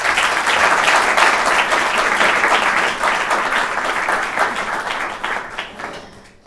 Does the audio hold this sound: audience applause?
yes